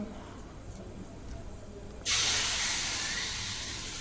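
Ground tomato poured into hot oil with chili powder for tomato thokku erupts into a sudden loud, close sizzling hiss halfway through, after a quieter hiss, and then stays strong.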